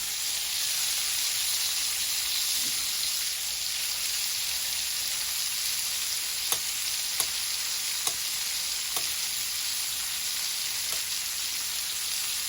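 Mushrooms fry in a pan with a steady, even sizzle that holds for the whole stretch, broken only by a few faint clicks of a utensil.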